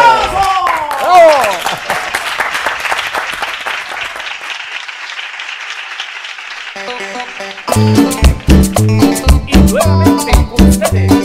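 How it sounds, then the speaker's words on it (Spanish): Audience applause at a talent show, a dense burst of clapping and cheering up front that thins out, then rhythmic music with a beat takes over; a voice speaks over the start. "¡Un aplauso! ¡Bravo!"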